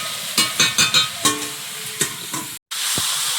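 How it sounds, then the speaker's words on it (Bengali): Pumpkin curry sizzling in a pan while a spatula knocks and scrapes in a quick run of sharp strokes, with a steady fry hiss beneath and a brief cut near the end. "এবারে কুমড়োটাকে ভালো করে ঢেকে ঢেকে কষিয়ে নেবো"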